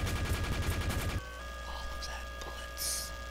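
Gunfire in Team Fortress 2 Mann vs. Machine, a rapid burst of shots that cuts off abruptly, leaving quieter game ambience with a few faint hits and a short hissing burst.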